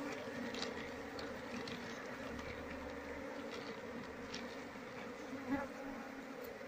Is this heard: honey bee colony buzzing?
yes